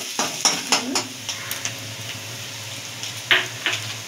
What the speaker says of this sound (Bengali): পেঁয়াজটা হালকা লাল করে আগে ভেজে নেব।